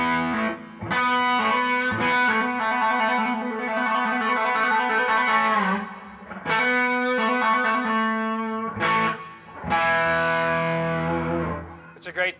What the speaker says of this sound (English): That's what the reverb will sound like by itself, all on.